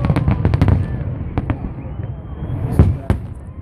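Fireworks burst at a celebration, a quick volley of sharp pops and cracks followed by scattered louder bangs, heard from a moderate distance over crowd murmur.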